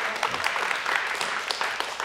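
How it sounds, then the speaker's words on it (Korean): Spontaneous studio audience applause on a Korean talk show, a dense steady patter of many hands clapping at close range with no voices over it. "자연스럽게 나온 박수입니다."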